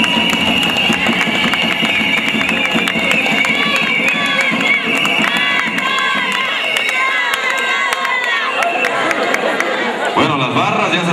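Audience at a neighbourhood queen pageant and coronation cheering, shouting and clapping in a loud, dense, continuous roar of many voices that fills the space.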